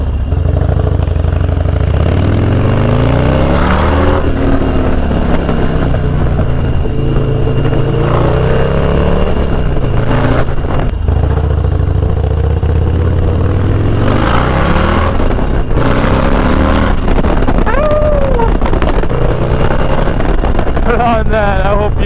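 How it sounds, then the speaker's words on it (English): A 2001 Harley-Davidson Dyna FXDX roars loud and close while being ridden, its engine pitch climbing and dropping through revs and gear changes amid constant wind rush. "ripping around on the undisputed champ of Dynas, the 2001 Fxdx"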